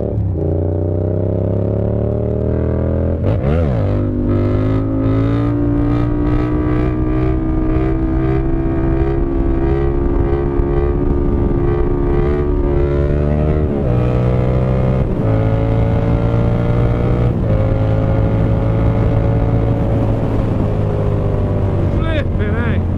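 A Yamaha MT-07 motorcycle with an SC Project CRT full exhaust and no baffle revs hard and loud, rising and falling through several blips and sustained pulls with a raw, crackling bark.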